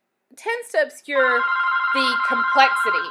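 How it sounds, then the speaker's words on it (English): A telephone rings with a sustained, steady electronic tone over speech, starting about a second in and continuing to the end, loud and close. "Apologies for the phone there."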